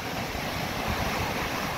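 A dense, rushing roar of surf and wind fills the air, loud and continuous, like heavy waves breaking nearby during Typhoon Carina.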